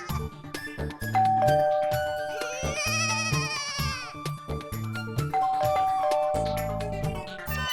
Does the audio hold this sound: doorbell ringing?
yes